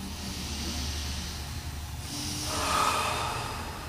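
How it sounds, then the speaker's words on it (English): One slow, deep breath, a soft airy inhale swelling and fading, heard alone and close up. "And breathe."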